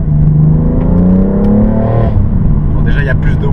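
A BMW M3 engine in sport mode, manual gearbox, revs up with a rising drone before easing off, loud and close from inside the car, with someone talking over it.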